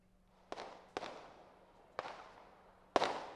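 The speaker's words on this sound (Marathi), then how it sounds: "बाजूचा फटाक्यांचा आवाज सुद्धा येतोय" Four sharp firecracker bangs burst at irregular intervals during a sugar factory election victory celebration in Malegaon, each with a short fading echo, heard at a moderate distance.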